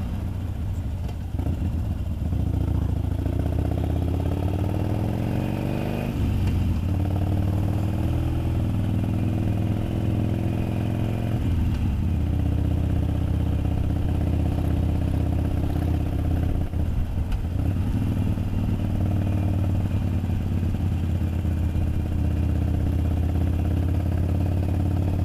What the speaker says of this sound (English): Bike is a little heavy also, so need lower gears.